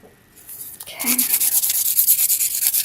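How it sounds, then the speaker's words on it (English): A 180 grit file rasps across a gel nail in quick, even back-and-forth strokes, close and steady after a brief quiet start. "I used my 100 grit at the beginning of filing her nail, and then I switched over to my 180 grit"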